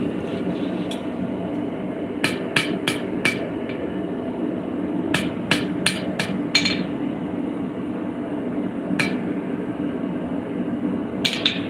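Sharp metallic hammer strikes ring out in quick clusters of two to four blows, separated by pauses, over a steady low background hum.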